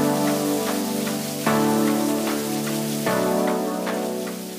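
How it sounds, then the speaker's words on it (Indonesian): Steady rain falls, a dense continuous patter with soft drops tapping throughout, alongside a low steady hum, with no voices. "Salah satunya adalah suara hujan"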